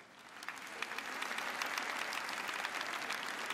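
Audience applause at a church gospel gathering, a dense wash of many hands clapping that swells in the first second and then holds steady and loud.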